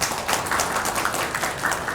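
An audience at the opening ceremony of an exhibition applauds, a brief, steady, moderately loud wash of many hands clapping together with no talk over it.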